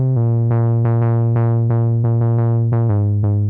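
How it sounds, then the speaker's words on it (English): A smooth, steady synthesizer bass line hums low and warm, with gentle plucky note changes at a moderate, even pace and no other instruments. "This can go from softer supporting bass lines"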